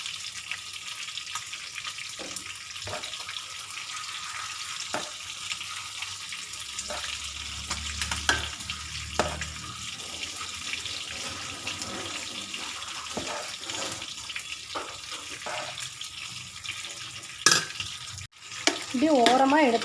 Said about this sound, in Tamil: இப்படி ஓரமாக எடுத்து கிளறி விடணும்.